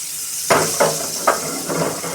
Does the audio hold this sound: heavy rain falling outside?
no